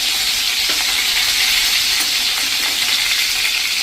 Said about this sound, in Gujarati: અડધી ટીસ્પૂન આખું જીરું, 1/4 ટીસ્પૂન હિંગ અને આપણે 1 ટેબલ સ્પૂન જેવું લીલું લસણ નાખી દઈશું.